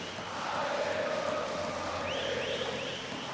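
An esports arena crowd at the IEM Rio Major 2022 CS:GO match between Furia and BIG roars and cheers in a sustained, distant swell that rises and fades, with rising whoops near the end.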